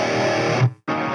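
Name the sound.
overloaded pedal producing bad distortion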